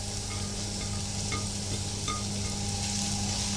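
Chopped onion sizzles steadily in a hot pan while cooking beef lumpia filling with monggo and sotanghon, a continuous close frying hiss with occasional soft clinks of a utensil.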